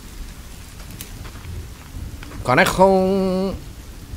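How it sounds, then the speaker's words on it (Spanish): Rain falls as a steady, moderate hiss in the survival video game The Forest, with a voice speaking briefly over it near the end. "¡Vaya, hombre! Encima se pone a llover."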